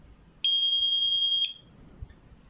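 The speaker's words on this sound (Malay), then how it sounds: "bukan jari yang betul, buzzer akan bunyi." A single steady electronic buzzer tone from a fingerprint door lock rejecting a wrong finger sounds for about one second, loud and close, then cuts off, leaving a quiet background.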